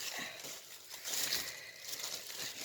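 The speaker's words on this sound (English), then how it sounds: "And I'm sorry for the crinkly noise." Faint crinkling of plastic packaging, soft rustles and crackles close by for a couple of seconds, with no talking.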